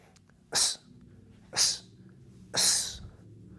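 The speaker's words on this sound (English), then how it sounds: "when you slip to one side and slip to the other side and roll, you breathe on each one" Three sharp, forceful exhales spaced about a second apart, close and hissing, rhythmic breathing on each slip and roll during a boxing head-movement drill.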